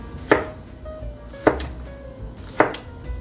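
Three sharp knife chops through mango on a cutting board, evenly spaced about a second apart, close and crisp, with no talking.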